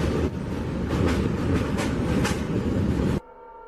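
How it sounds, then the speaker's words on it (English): A train rolls past on a railway at close range, a loud, steady rumble of wheels and cars for about three seconds before it cuts off suddenly. "The person waits for the train to pass"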